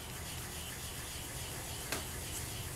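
Polymer clay rubbed in circular motions with sanding cloths gives a continuous, close, dry scratchy rasp that holds an even level throughout without pauses.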